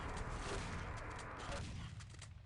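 Heavy shotgun blasts trade back and forth in a fast Quake freeze tag match, dense overlapping gunfire filling the mix continuously at close range, with talk running underneath.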